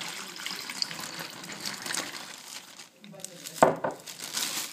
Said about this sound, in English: get the bag, the half mug of water, pour it in